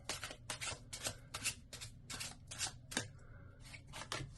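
Tarot cards are shuffled in a quiet ASMR reading setting, producing steady bursts of crisp riffling and slapping card sounds, close and clear, with a brief pause before resuming.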